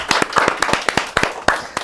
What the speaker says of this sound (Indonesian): Tepuk tangan buat Ojemo.